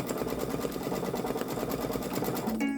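A Baby Lock Solaris Vision embroidery machine stitches up close in a fast, steady, even rhythm, with a brief higher-pitched tone near the end.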